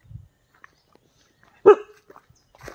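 A dog gives a single sharp, close bark amid near silence, with a few faint rustles and a soft trailing noise afterward.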